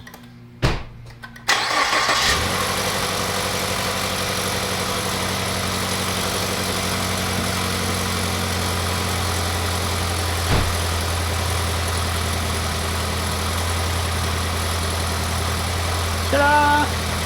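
Turbocharged Ford Fusion engine cranks briefly, catches and settles into a steady, loud idle with a constant low hum that runs to the end, with a small blip partway through.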